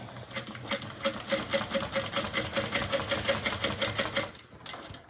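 A sewing machine runs a steady, rapid burst of stitching on a small test piece while bobbin thread tension is checked before sewing a bag; the needle pulses evenly and close up for about four seconds, then stops.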